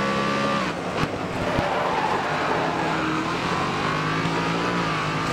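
A race car in a Nintendo Switch racing game accelerates hard, its engine whining and revving continuously up close, with a sharp knock early on and the pitch sliding as the car speeds along.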